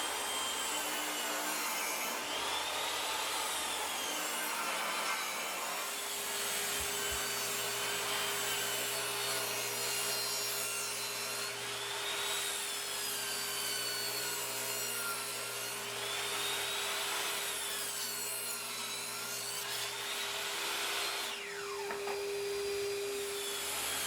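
A saw rips a 2x4 wood board lengthwise into 2x2s, giving a steady, loud, continuous cutting whine with shifting pitch over a constant motor hum, and no voices.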